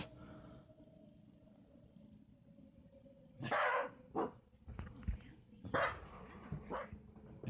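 A frightened dog barks in a few loud, sharp bursts with softer whimpering and whining in between, close by and without any talking.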